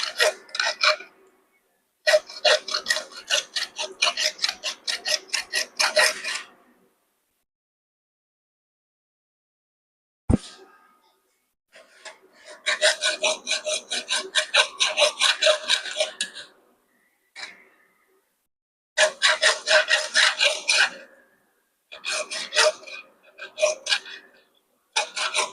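Hand saw cutting through hard wood, a close, loud rasping in long stroke-driven bursts separated by pauses, with a sharp knock partway through and a few shorter sawing runs toward the end.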